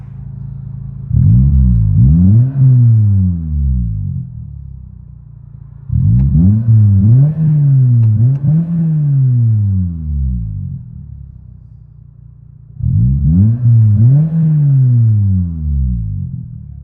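Cabin view of a 2005 Toyota Corolla XRS, 1.8L five-speed manual, with a 2.5-inch exhaust to a Megan Racing muffler: three loud bursts of revving, each rising and falling in pitch as gears change, with quieter idle-like droning between.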